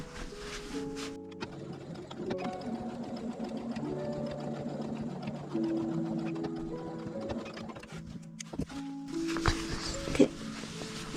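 A sewing machine stitches a corner seam of a four-pocket fabric bag, running in close, steady bursts of rapid mechanical whirring with brief pauses between runs.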